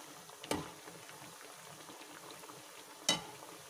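Poha kachoris bubble gently in hot oil, a faint steady frying patter with two sharp clinks of a utensil near the start and end.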